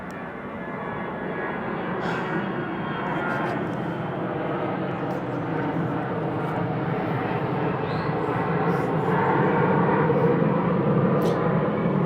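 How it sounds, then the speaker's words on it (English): Airplanes fly overhead outdoors, a steady broad roar that holds for the whole stretch and swells slightly louder toward the end, with no one talking. "I'm outside, so you got airplanes coming by."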